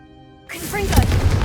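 A Confringo fire spell cast at candelabras in Hogwarts Legacy bursts in as a sudden loud whooshing blast, followed by a rumbling crash with crackling debris that sustains to the end, preceded by quiet ambience.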